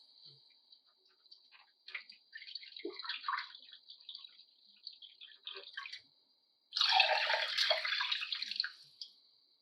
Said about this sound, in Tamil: ரெண்டு கப்பு தண்ணி ஊற்றிக்கலாம்